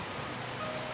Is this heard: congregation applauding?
no